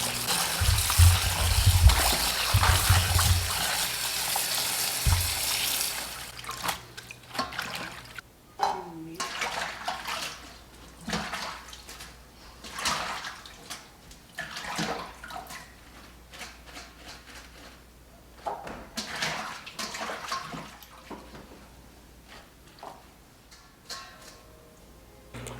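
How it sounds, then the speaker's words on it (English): Leafy greens are swished in a bowl of water with white vinegar, starting with a steady pour and splash, then softer sloshing and dripping as a voice talks over it. "Going to let this sit in here a little bit, wash it thoroughly, and then rinse off the vinegar."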